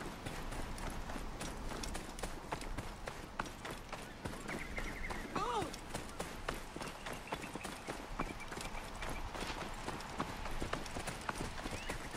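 Horse hooves gallop at a steady, rapid clip-clop in the video game Assassin's Creed Origins, continuous and fairly loud over twelve seconds, with a brief whinny near the middle.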